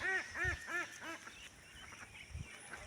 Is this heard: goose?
yes